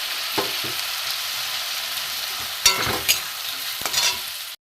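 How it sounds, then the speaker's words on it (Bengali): Chopped tomato fries in a pan with onions for panch phoron chicken; a steady sizzle runs throughout, punctuated by several sharp stirring scrapes and bursts near the end. "টমেটো কুচানো দিয়ে দেবো।"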